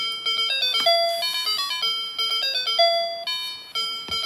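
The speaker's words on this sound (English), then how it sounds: "it will constantly play the game theme over and over and over again until you start" Looping electronic game theme from a PCP Station (PCP-8028) handheld demo mode: a bright, beeping chiptune melody of short square-wave notes, steady and clear, playing alone without talk.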